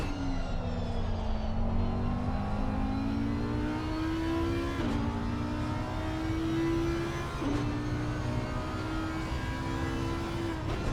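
Race cars lapping Bathurst in a sim racing game, a McLaren among them: a loud, continuous engine whine climbing through the gears, with sharp drops at each upshift, close and alone, no talking over it.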